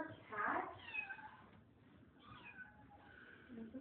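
A kitten meows from somewhere unseen, a clear cry near the start followed by softer, fainter mews, heard over a quiet room with a voice talking.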